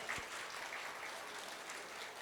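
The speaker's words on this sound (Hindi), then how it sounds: "आप लोग भी प्रियम मैम के लिए एक बार जोरदार तालियां बजाएंगे" Audience applause at a school annual day, a steady broad wash of clapping from a large crowd that holds evenly for the whole stretch.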